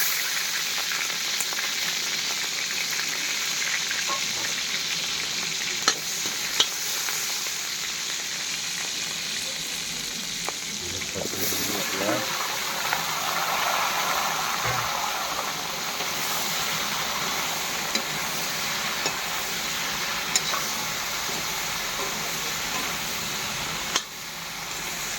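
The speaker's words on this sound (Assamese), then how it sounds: "তেল গৰম হৈছে প্ৰায়। জলকীয়া আগতে ভাজি কৰি লওঁ" Green chillies hit hot oil for a morning vegetable dish, a constant close sizzle that swells into a sharper, bubbling burst midway, with no one speaking.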